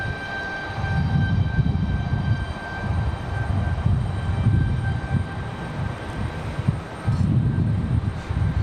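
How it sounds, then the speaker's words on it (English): A Southwest Boeing 737 from Chicago Midway lands at Raleigh-Durham, heard as a distant, sustained engine roar with a rumbling low end and a faint high whine, swelling and easing slightly over the span with no talk. "Our Chicago Midway Southwest touching down."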